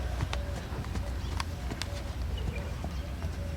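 A horse canters, its hooves giving a steady rhythmic clip-clop of sharp distinct beats against a quiet outdoor background.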